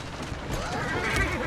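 A horse in Assassin's Creed Syndicate gives a short, close whinny amid a dense game soundscape.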